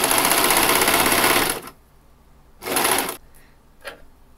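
A sewing machine stitching fabric with elastic runs in a loud, close, rapid whirring burst for about a second and a half, then a shorter second burst and a brief final stitch, with quiet pauses between.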